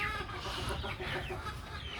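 Chickens clucking softly and steadily close by, with no other sounds.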